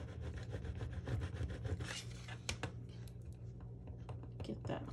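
Steady rasping scrapes of a transfer being rubbed onto a hearts-and-flowers craft project, close and continuous with a few sharper strokes, while a low background hum runs underneath.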